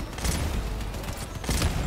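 Rapid weapon fire from the Assembler in the vehicle combat game Crossout comes as a dense, continuous burst that stays loud for about two seconds, with a slight surge near the end.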